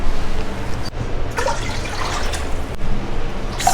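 Water runs steadily into a container for pickling brine, a loud continuous gushing pour that briefly dips twice before resuming, close by with no talking.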